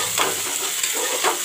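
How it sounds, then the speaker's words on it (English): Chopped onions fry and sizzle in a pan for a mutton curry with whole spices such as cardamom and cinnamon, a steady close crackle with occasional stirring scrapes and no talk. "Put in the chopped onions. I will let the onions turn brown."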